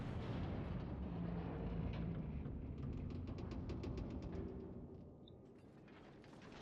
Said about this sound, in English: I'd like to shoot all my guns at once, and I did.